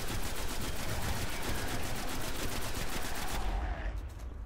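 Rapid automatic gunfire from a weapon in the Destiny video game, a dense unbroken burst of shots lasting several seconds, loud and close, with no talking over it.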